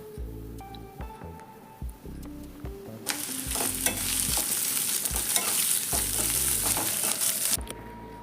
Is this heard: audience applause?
no